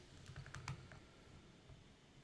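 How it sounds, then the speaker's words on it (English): Quiet typing on a computer keyboard: a short burst of soft, closely spaced key clicks near the start, then trailing off into faint room tone. "let's type in inventory report"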